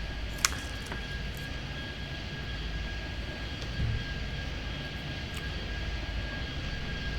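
Airplane engines in the video game Airport Madness 3D drone steadily and fairly quietly throughout, with a single sharp click near the start.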